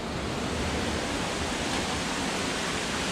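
Mountain water cascades along a rocky Adirondack trail near Deer Creek, a steady loud broadband rush of falling water, continuous and close with no voices.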